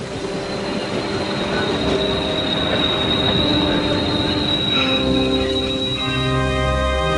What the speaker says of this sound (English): Thousands of mourners stood in silence as his funeral train slowly crossed America.